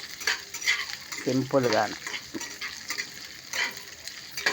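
Mustard seeds, cumin, curry leaves and dried red chillies crackle and sizzle as a tempering fries in hot oil for Telugu banana pachadi, steady close frying with stirring scrapes and a brief voice speaking over it.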